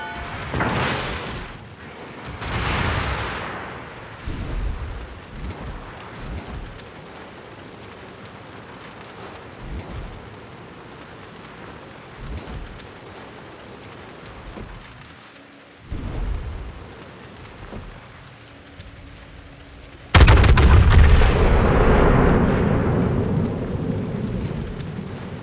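In the World of Warships game, the Conqueror battleship's main guns fire in several deep booming salvos with long rumbling decay, ending in a loud sustained blast near the end.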